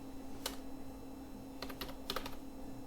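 Code being typed on a computer keyboard, a few quick isolated keystrokes and then a short burst of clicks over a steady background hum, no voices.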